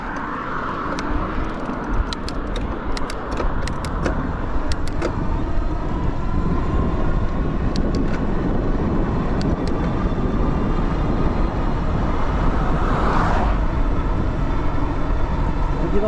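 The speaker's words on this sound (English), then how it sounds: "A lot of traffic apparently today." Road traffic streams past a commuter riding an e-bike, a steady broad rumble of cars throughout with a few brief high clicks and squeaks early on and a louder vehicle swelling by near the end.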